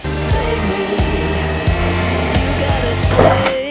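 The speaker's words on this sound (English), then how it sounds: "just start drilling some holes in there" A power drill whirs steadily, revving in repeated pulses as it bores into material, loud and close with a grinding edge.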